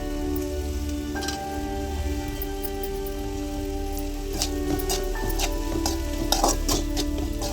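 Vegetables and egg sautéing in a hot pan for street-style egg noodles, a steady close sizzle and frying hiss with stirring scrapes and clinks throughout, no voices.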